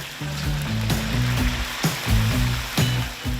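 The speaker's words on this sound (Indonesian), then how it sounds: "Masukkan daging kambing ke dalam minyak untuk proses penggorengan." Lamb meat sizzling steadily in hot oil, a continuous crackling hiss with a low background hum and a few soft clunks.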